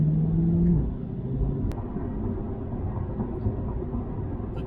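Low engine rumble from a C8 Corvette with a naturally aspirated engine pulling under acceleration, heard from inside the car as a steady deep drone after a brief louder opening tone.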